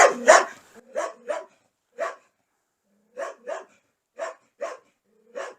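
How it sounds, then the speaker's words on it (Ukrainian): A dog barks angrily at a house, sounding off in short separate bursts: a quick cluster of barks at the start, then single barks spaced irregularly over several seconds. It is fairly close, with no talk and quiet between the barks. "Такий тут сердитий собака"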